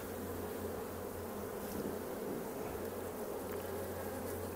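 A honeybee colony from a recent split, moved into a larger hive in late fall, hums in a steady, dense buzz close by, continuous and unbroken throughout with no talking.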